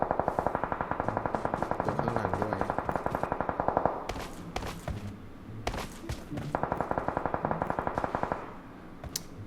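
Rapid automatic gunfire in the PUBG Mobile shooter game, long rattling bursts of evenly spaced shots with brief gaps between them, loud and close throughout.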